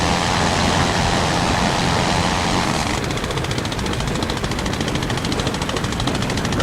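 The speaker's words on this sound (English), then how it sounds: "I love that distinctive ticking of the engine" A WWI aircraft engine in the Rise of Flight flight sim runs steadily and loudly throughout, a continuous droning buzz that shifts to a finer, rapidly ticking texture partway through, with no talking.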